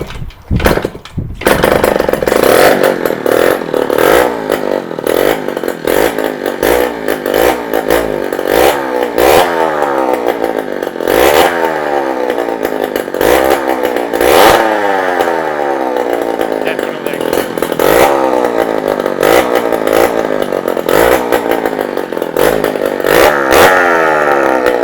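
A 48-year-old 100cc two-stroke motorcycle engine with a faulty exhaust, revving too high: loud, close, buzzing, chainsaw-like bursts that climb and drop repeatedly over a sustained idle.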